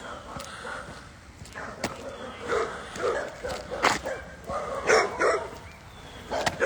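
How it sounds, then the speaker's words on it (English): Several dogs bark and yip at a distance near a trail, overlapping in irregular bursts against steady outdoor background noise. "I'm hearing a lot of dogs barking"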